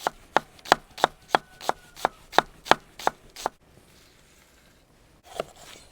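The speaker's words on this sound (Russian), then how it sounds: "Лук нарезаем тоненько, 1/4." A knife chops onion into thin slices on a board for a lamb and vegetable stew, about a dozen quick, even, close strokes in a steady rhythm, then a pause and a couple more cuts.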